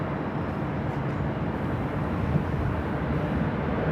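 An airliner takes off at LAX, heard as a steady, broad jet roar that holds at an even, moderate level for several seconds, with no talk over it.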